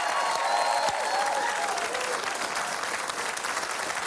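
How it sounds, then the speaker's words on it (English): Studio audience clapping for Canada's Paralympic team, a dense steady round of applause at moderate loudness, with faint voices threaded through it. "A big hand for Canada's Paralympic team."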